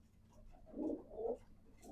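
A pigeon gives a soft, low coo in two short swells, fairly faint against a quiet background.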